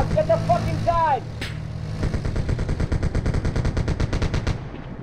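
Gunfire in the military video game Arma 3 starts as a single sharp report, then turns into a fast, steady burst of automatic fire over a low vehicle engine rumble, with a brief tonal whine near the start.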